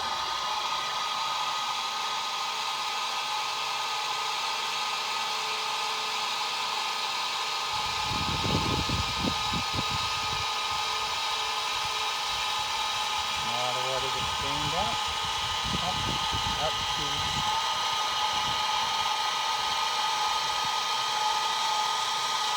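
A yard drainage pump switches on once its float engages under pooled yard water, giving a steady whirring motor hum with louder churning bursts partway through, close and continuous.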